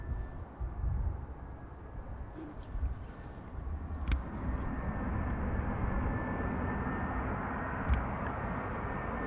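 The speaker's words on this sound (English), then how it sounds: "In the meantime, we have Iberia Express arriving on this runway." An Iberia Express airliner arrives on the runway at Amsterdam Schiphol Airport, heard as a faint, distant, steady jet roar that swells slightly over nine seconds, with a few soft clicks.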